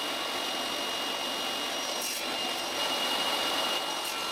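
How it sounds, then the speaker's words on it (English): Power saw cutting small mahogany pieces at a 45-degree angle for a napkin holder: a steady loud whining roar held throughout, with a brief surge in the middle and slightly louder toward the end, no talk. "I cut the pieces of mahogany at a 45-degree angle into 16 pieces"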